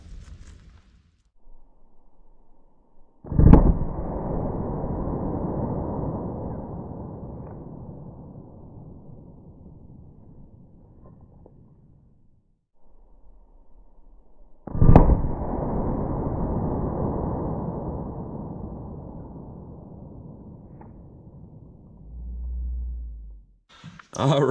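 Two loud, sharp .44 Magnum gunshots from Federal HST ammunition in a ballistic test, spaced about eleven seconds apart, each leaving a long echoing decay outdoors.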